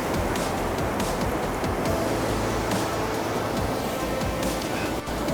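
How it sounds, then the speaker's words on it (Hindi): A fast-flowing, very cold river in Kumrat Valley, Pakistan, roars as a dense, continuous rush of water from nearby, loud and unbroken with no voices over it. "पानी का जो बहाव है वो काफ़ी तेज़ है"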